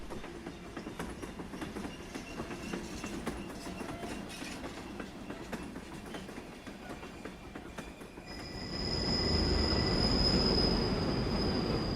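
A Spanish train leaves Teruel bound for Tarragona, rumbling steadily with clattering wheels, then swelling into a louder roar with a high, sustained wheel squeal near the end.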